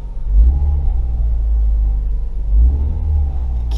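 A Chevrolet car engine rumbles at idle and revs up twice as the throttle is opened, a deep steady drone close by with two swells in pitch and loudness.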